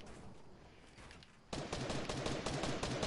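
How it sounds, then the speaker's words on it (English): Rapid machine-gun fire from a video game shootout, aimed at the player, a fast stuttering burst that starts faint and distant, then jumps to loud, close, steady firing halfway through. "Oh, they're shooting at me."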